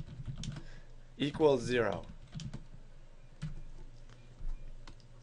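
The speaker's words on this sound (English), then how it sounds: "let me just type that out" Computer keyboard typing in short bursts of clicky taps, with a voice speaking briefly over them.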